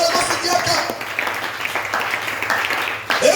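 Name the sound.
congregation applauding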